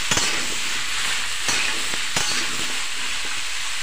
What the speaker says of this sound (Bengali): ফুলকপিটা দিয়ে ভালো করে নেড়ে করে নিই